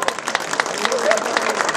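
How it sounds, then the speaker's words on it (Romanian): Audience applause at a fight-show press conference in Targu Jiu, a short round of clapping with distinct individual claps in a room, under some voices. "Haideți să ne încurajăm cu un rând de aplauze!"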